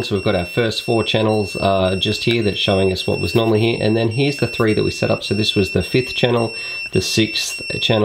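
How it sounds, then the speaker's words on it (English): A steady high-pitched electronic beeping tone from a quadcopter's beeper runs continuously beneath someone talking close to the microphone. "there is a beeper going throughout this video"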